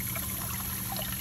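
Water rushes steadily from the outlet of a Zoeller M98 half-horsepower sump pump draining a wet yard, a dense, continuous gushing and trickling wash heard close and fairly loud, with no talk.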